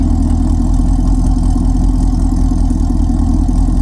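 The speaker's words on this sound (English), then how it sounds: "Yeah, that idle still sounds really good." A Chevrolet Camaro ZL1 V8 idles with Corsa resonators in the exhaust, a loud, deep, steady rumble with an even low throb throughout and no voices.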